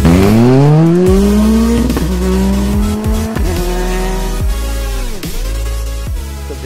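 A racing motorcycle passes through a chicane, its loud engine rising in pitch and snapping down through rapid gear changes as it brakes and accelerates close by, with no talk.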